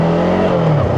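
A Voge 500AC twin-cylinder motorcycle engine revs loud and close in a brief, throaty roar whose pitch sags toward the end.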